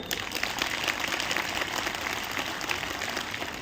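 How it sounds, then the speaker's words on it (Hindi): An audience at a railway trackmaintainers' union safety meeting applauds. The clapping is an even, continuous patter at moderate volume and holds steady to the end. "या जोरदार तालियां बजाइए एक बार फिर"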